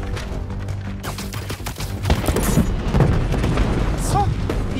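Fireworks explode in the Spider-Man 2 video game, a dense run of booming blasts and crackling bursts, loud and close, layered over game sound with some voices present.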